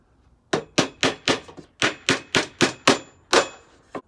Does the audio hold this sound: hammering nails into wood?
yes